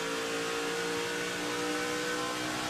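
An ARCA Series stock car engine bouncing off its rev limiter around 7,500 RPM at Gateway Motorsport Park, a loud sustained onboard drone with a buzzing, stuttering edge and no voices over it.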